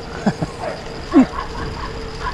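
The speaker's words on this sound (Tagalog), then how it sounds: "Nag-away na yung mga aso." Several dogs near a reservoir in the evening, giving a few short yips and barks with whimpering in between, close and fairly loud, with faint voices in the background.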